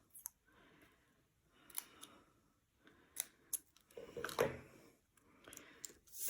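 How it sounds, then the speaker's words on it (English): Scissors snip through stamped paper, trimming excess around card pieces at close range: several separate crisp cuts in irregular rhythm, with rustling paper between them. "So I'm just cutting off the excess."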